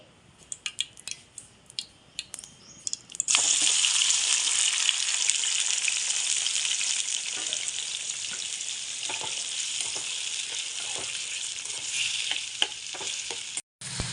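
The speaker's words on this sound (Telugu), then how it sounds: "పల్లీలు టమాటా వేపుకోవడానికి అదే బాణీలో కొంచెం నాలుగు స్పూన్ల ఆయిల్ వేసుకున్నానండి" Peanuts and tomato fry in about four spoons of oil in a pan. After a few seconds of quiet handling, a loud, steady, close sizzle starts abruptly and runs without a break to the end.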